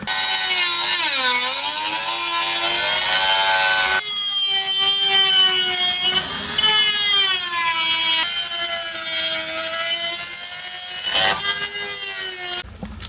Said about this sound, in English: Gonna bust out the Dremel on it and go from there.